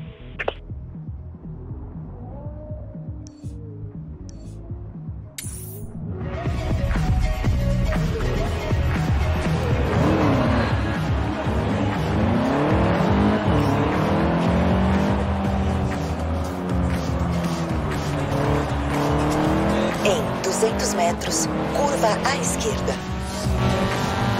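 A car roars in a racing video game, engine revving under steady tire squeal and skidding for over twenty seconds after a quiet opening, loud and continuous.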